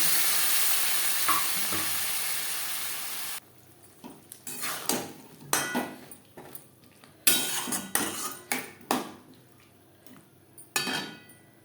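Ground spices being stirred into potatoes in a frying pan for a fish curry: a hissing sizzle at first, then a run of distinct, rhythmic spoon scrapes and knocks against the metal pan.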